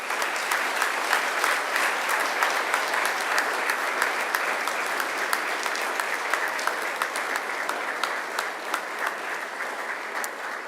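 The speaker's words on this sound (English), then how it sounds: "please acknowledge them with a round of applause" Graduates at a university graduation ceremony applaud their family and friends, a dense, steady wash of many hands clapping that fills the hall for about eleven seconds without pause, loud and even.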